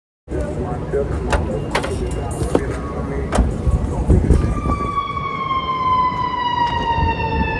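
City traffic rumbles with bursts of noise in a Canadian downtown, then a wailing fire truck or ambulance siren rises and sustains toward the end, with voices faintly mixed in.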